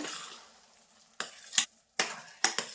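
Ghee-enriched rice pudding being stirred in a pan, a faint sizzling hiss fading out, then four sharp spoon scrapes and clinks against the pan in two quick pairs, close and alone.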